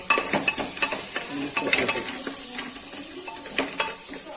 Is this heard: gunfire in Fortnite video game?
no